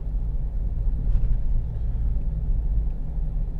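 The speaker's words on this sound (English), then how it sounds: "So this is a rough road, so I'm sorry if it's all torn up. So sorry if you can hear it" Inside a car traveling a rough, torn-up road, a constant heavy low rumble and road drone fills the cabin, with faint bumps and rattles breaking through now and then.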